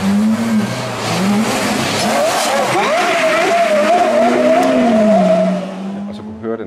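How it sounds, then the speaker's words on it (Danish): A Porsche Carrera GT engine wails loudly at high revs, its pitch climbing and holding as the car passes close by, with a brief rasp at the end. "Og så kunne høre den her Carrera GT"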